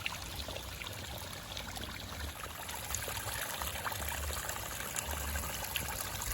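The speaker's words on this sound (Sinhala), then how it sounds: "මේ බලන්න පොළොව යටින් වතුර උඩට මතුවෙන විදිහ" Spring water gurgles and trickles quietly, welling up from the ground after heavy rain and flowing in a soft, continuous babble outdoors.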